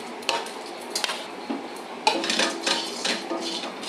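Whole spices (cloves, cinnamon, nutmeg, mace, black and green cardamom, bay leaves) dry roasting in a pan for biryani masala, with irregular scraping and clinking of a spatula against metal, close and fairly loud, no voices.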